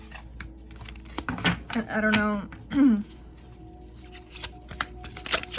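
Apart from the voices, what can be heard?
shuffling tarot cards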